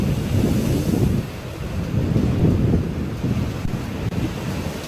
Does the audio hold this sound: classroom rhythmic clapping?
no